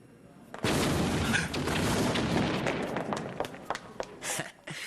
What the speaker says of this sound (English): Setting off cherry bombs in the middle of Manhattan?